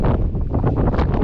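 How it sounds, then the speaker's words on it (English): Strong wind buffets the microphone in heavy, low rumbling gusts, loud and close, with no voices, on a cold evening at a Peak District wild camp. "It's cold, very windy."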